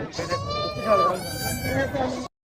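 Goats bleat in wavering, nasal cries at the Kunnathur goat market in Tirupur, close and fairly loud, mixed with the voices of people around the pens.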